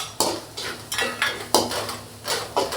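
A spoon stirs coriander powder, chili powder and Kashmiri chili powder as they sauté in a pan for egg rice, making about half a dozen close, rhythmic scraping strokes.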